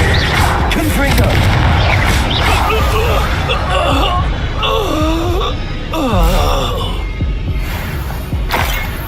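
Confringo fire spell blasts in Hogwarts Legacy, loud booming bursts over a dense, continuous wash of game effects and rumble, with a deeper thud near the middle.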